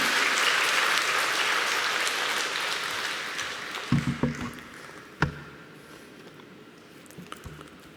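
Applause fills a church revival mission meeting as a missionary is welcomed to the stage, a dense burst that fades away over a few seconds, followed by a few scattered thumps and soft noises.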